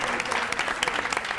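A brief burst of studio applause for a contestant on a TV quiz show, with dense, steady clapping from a small audience heard close up.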